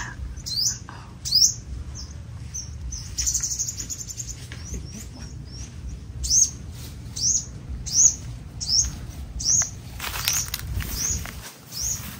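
A sunbird caught in a trap gives sharp, high chirps in irregular bursts, some close and loud, over faint rustling and background noise.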